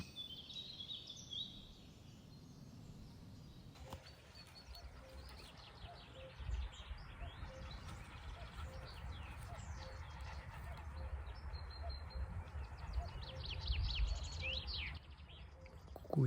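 Birds sing in a pasture with a forest nearby, faint chirps and short calls scattered across the scene over a low rumble of outdoor background noise, with no one talking.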